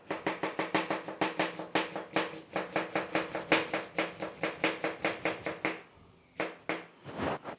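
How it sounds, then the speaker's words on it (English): A knife thinly slices red onions on a cutting board in a quick, steady run of close, crisp chops, about four per second, then a brief pause and a few final cuts. "we need to thinly slice those onions"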